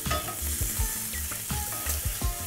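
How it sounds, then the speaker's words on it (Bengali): Eggs coated in salt and turmeric frying in oil for a Bengali egg curry, a loud continuous sizzle broken by rhythmic low thumps and scrapes as they are moved in the pan, close and with no voices. "ডিমে নুন হলুদ মাখিয়ে ওটাকে ভাজলে সুন্দর একটা রং আসে"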